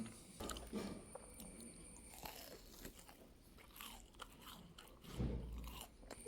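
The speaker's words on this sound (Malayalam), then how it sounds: "ഒരു സൈഡ് അത് വേണം കേട്ടോ ആദ്യം കടിച്ചു തിന്നാൻ" Crisp bites into a crunchy fried bonda snack, followed by quiet crunching and chewing, close to the microphone at a tea break, with a louder bite near the end and no talk.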